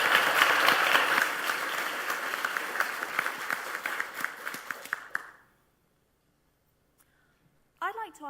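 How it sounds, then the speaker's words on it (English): Audience applause at a three-minute thesis competition, a full round of clapping that gradually thins into scattered claps and ends after about five seconds, followed by silence and then a voice starting to speak. "Can we have an applause for Sarah, please?"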